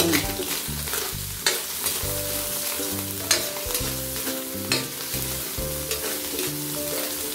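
Tinapa smoked fish fries with garlic and onion, sizzling near and loud while a spoon scrapes and stirs in irregular strokes over background music.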